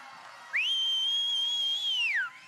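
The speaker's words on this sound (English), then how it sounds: "If you can whistle, I want to hear it." A single loud, sustained high whistle rings out from an audience at an Australian bodybuilding and physique competition, holding one steady pitch for about two seconds before sliding down and fading.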